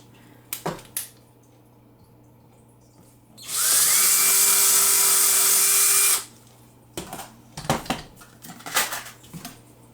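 A ratchet drives a screw into a wooden shelf on a DIY wood-and-pipe shelf, heard as one loud, steady whirring burst of about three seconds, with scattered clicks and handling knocks before and after.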